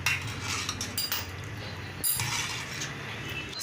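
A spoon scrapes and clinks against a metal pot, steadily stirring dark red strawberry jello, with a low hum of background noise throughout.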